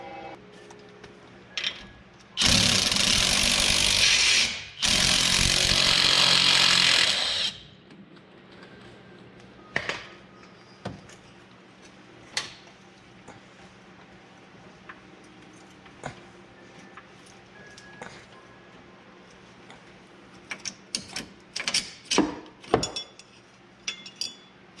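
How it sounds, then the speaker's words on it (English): An impact or power tool roars loudly in two bursts while a stabilizer link bolt is removed from a Volvo XC70 suspension, followed by scattered metallic clinks and taps of tools and parts. "So let's go ahead and take this bolt off"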